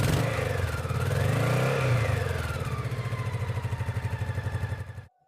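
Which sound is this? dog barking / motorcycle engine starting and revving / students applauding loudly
motorcycle engine starting and revving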